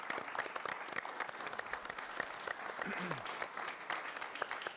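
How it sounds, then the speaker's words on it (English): Sustained applause from an audience at a live-telecast media panel event, dense steady clapping throughout with some crowd murmur mixed in. "So I think they deserve a big round of applause."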